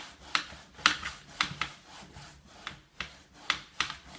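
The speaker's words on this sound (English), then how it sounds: "So I'm just going to have to put it down and put it in place and burnish it." Card panel being burnished into place by hand, a series of short, crisp rubbing strokes on paper, close and fairly loud, roughly eight scraping passes at an uneven rhythm with quiet gaps between.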